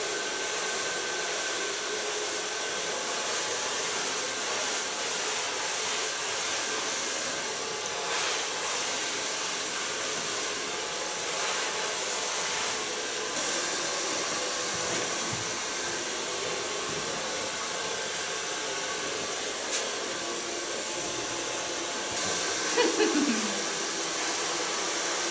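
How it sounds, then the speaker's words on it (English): A hair dryer blows steadily while drying a brown-colored blunt bob after a clipper cut, a constant close whooshing roar that holds level for the whole stretch. "So far blow drying."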